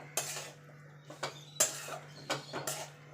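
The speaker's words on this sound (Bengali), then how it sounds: "গ্যাসটা লো টু মিডিয়ামে রেখে নারকলটাকে ভালো করে পাক দিয়ে নিতে হবে" Grated coconut and date jaggery are stirred in a pan over a gas flame. A spoon scrapes and clinks against the metal about five times in a loose rhythm over a steady low hum.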